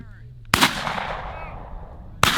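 Shotgun blasts during a bird hunt in the Jamaican bush: two loud, close reports about two seconds apart, each followed by a long, fading echo outdoors.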